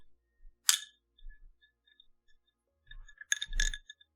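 Ice cubes clinking together during an ASMR session: one bright, close clink near the start, then a quick cluster of ringing clinks about three seconds later, with quiet pauses between.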